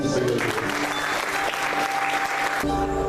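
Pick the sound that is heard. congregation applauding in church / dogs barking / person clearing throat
congregation applauding in church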